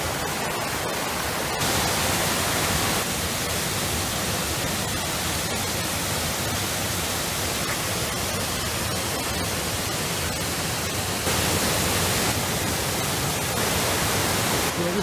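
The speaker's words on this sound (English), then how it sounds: "Right, now we're at Kisdon Falls." Kisdon Falls in Swaledale rushes as a dense, unbroken hiss of falling water, loud and close, holding steady throughout with no one speaking.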